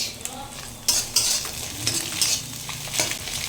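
Egg frying and being stirred in a hot pan for Chinese-style egg fried rice: steady sizzling with repeated scraping spatula strokes and light metal clinks, close and fairly quiet.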